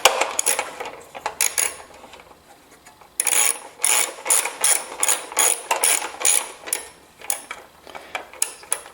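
A ratchet snugs up a half-inch bolt on a lawn mower carburetor, giving quick bursts of close, crisp clicking pawl ticks in uneven strokes with short pauses between them.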